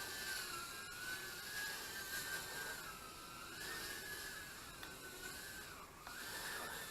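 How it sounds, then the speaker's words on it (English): A JJRC H36 mini quadcopter flies in slow mode, giving a thin, continuous high whine that wavers slightly in pitch, faint but steady and alone. "Let's try on the slow mode then."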